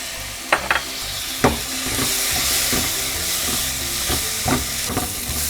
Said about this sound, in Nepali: अलिकति थोरै पानी राखेर पनि मसला भुटौँ।